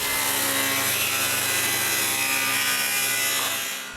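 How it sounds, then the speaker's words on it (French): A table saw rips steadily through a wide wooden board for several seconds, a continuous loud whining cut that winds down at the end. "Je coupe donc le plus que je peux sur le banc de scie."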